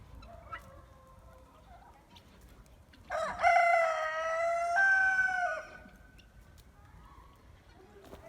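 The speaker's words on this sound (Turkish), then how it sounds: "Hemen tavuklar, horozlar, hep tavukları geldi." A rooster crows loudly and close, one long drawn-out call, while softer chicken clucks and faint talk sit in the quiet background.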